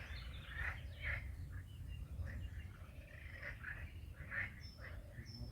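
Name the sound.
frogs croaking outdoors at night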